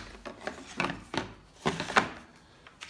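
A plastic ski tip insert slides onto a Ski-Doo Summit ski with close scraping, rubbing and a few clicks in short bursts, no voices present.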